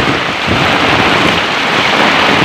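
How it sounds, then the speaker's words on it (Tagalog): Heavy rain pouring on an island during flooding and strong wind, a loud, dense, continuous hiss and patter with no voices. "Malakas ang ulan."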